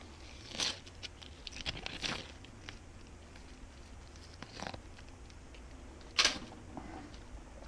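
Layers of an onion are torn away by hand in a kitchen, giving a few quiet crisp tearing and crackling snaps spaced across a hushed background.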